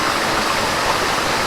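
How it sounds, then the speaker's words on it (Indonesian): Steady, full rush of the Gunung Naga waterfall on Mount Ratai in Pesawaran, a dense continuous roar of falling water heard close and alone throughout. "nampak kilas air terjun Gunung Naga"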